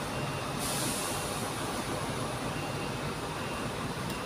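A long truck passes close by with a broad, loud roar, and a brief high hiss of air brakes comes near the start.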